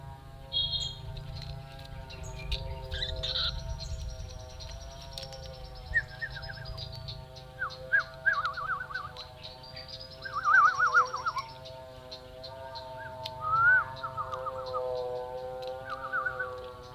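Black-naped orioles give several short whistled calls and chirps at intervals, moderately near, above a steady tonal background hum and some low rustling.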